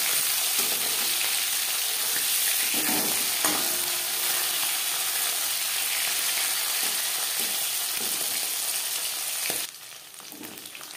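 Pieces of live pakal eel fish fry lightly in oil with a loud, steady sizzle and a few soft stirring knocks. The frying noise falls away abruptly near the end, and no one speaks.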